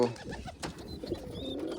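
A wild pigeon coos nearby in a few soft, low, throaty calls, with faint background noise.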